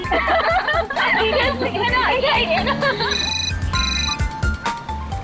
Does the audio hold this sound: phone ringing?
yes